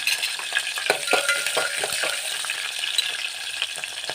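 Green chilli and mustard seeds frying in hot oil in a pan for vermicelli upma, a loud continuous close sizzle with stirring scrapes and small spatters, no voice.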